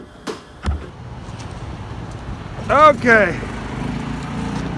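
An EZGO golf cart fitted with a 13hp Predator engine pulls a big dumpster, its engine droning steadily at mid distance throughout. Someone speaks briefly over it, and a couple of knocks come early.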